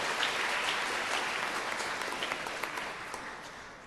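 Church congregation clapping during an evening Mass homily, a dense burst of applause that starts full and gradually thins and fades toward the end.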